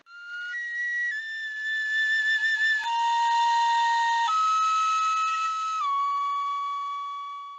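A single person whistles a slow melody of long, pure, sustained notes that step between pitches, close and clear with no talking over it.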